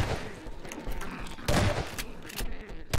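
Shotgun blasts in Half-Life 2 come as several loud, sharp reports spaced across a short stretch of chaotic combat noise.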